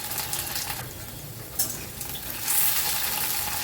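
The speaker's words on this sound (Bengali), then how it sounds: "মিনিট খানেক নাড়াচাড়া করে আলুটাকে একটু ভাজা ভাজা মতো করে নেব।" Potato pieces sizzle and fry in a pan while being stirred, a close, continuous crackling hiss with occasional scraping and clattering touches of the spoon.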